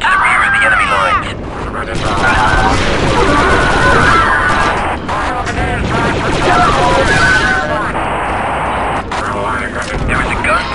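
Steady loud gunfire and explosive crashes from Star Wars Republic Commando fill a battlefield, continuing without pause while game voices and radio chatter talk over it.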